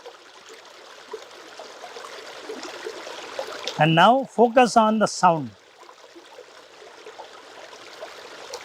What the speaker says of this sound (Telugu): రాళ్లను దాటుకుంటూ ఏ అడ్డంకులు లెక్క చేయకుండా పారుతూ ఉండడాన్ని జస్ట్ విజువలైజ్,